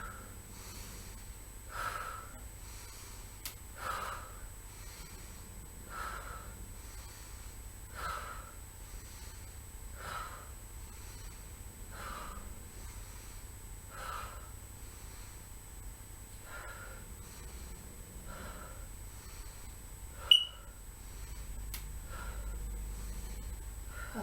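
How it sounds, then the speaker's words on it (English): Deep yoga breaths during a power yoga session, a steady series of roughly a dozen audible inhales and exhales about every two seconds, fairly faint and close, with no talking. "Let's really hear the breath sing as well."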